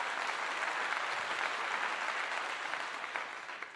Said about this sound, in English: Let's give a clap to that.